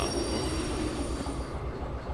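A train with railroad cars in the video game Derail Valley gives a steady heavy rolling rumble, with a high metallic whine running on top through most of the stretch.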